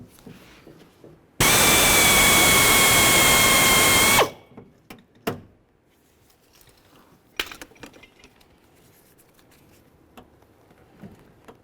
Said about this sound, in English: When drilling this area out, be extremely careful not to cause damage to the door itself